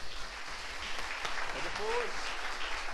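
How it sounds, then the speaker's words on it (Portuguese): A church congregation applauds its pastor, a continuous muffled wash of clapping heard from a distance with voices mixed in beneath it. "Uma salva de palmas para o nosso pastor."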